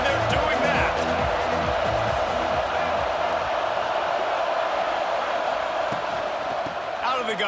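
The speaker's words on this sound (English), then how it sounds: "They challenge this crowd to bring the energy, and I'd say they're doing that." A packed stadium crowd roars at an Ohio State versus Florida football game, loud sustained cheering and whooping filling the whole stretch, with a commentator's voice over the top early on.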